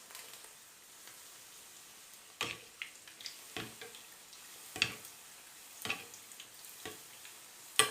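Msemen frying in oil in a pan: a quiet continuous sizzle with a few sharper taps and clicks at irregular intervals, close and without talking.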